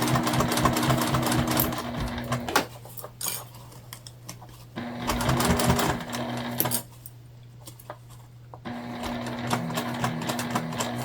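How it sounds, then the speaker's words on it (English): A sewing machine bastes a pocket onto a front panel for a sling bag, running in steady whirring bursts separated by short pauses, close and clear with no talking. "put our pocket in to our front panel. Again, we're just basting,"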